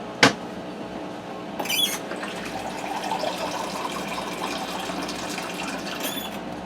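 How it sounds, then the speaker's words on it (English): Water pours into a Ninja Foodi pot of pasta for ranch tuna casserole. A sharp clunk at the start is followed by a steady, close gushing stream that runs for several seconds with a few light knocks. "I'm going to add 2 cups of water."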